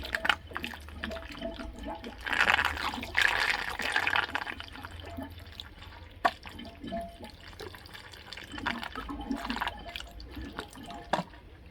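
Dissolved sugar solution is poured into a fermenter of Irish stout homebrew, with soft splashing and trickling of liquid in irregular bursts, fairly quiet and close.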